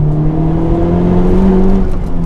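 A Honda Civic Type R with its full stock exhaust, resonators retained, accelerates close by, its engine note humming loud and steady as the pitch climbs smoothly, with no voices over it.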